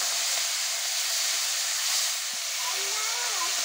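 Patol pieces and prawns hitting hot oil in a pan for a Bengali potol chingri curry give off a steady, broadband sizzling hiss. It runs unbroken throughout, close and fairly loud, with faint clinks near the end.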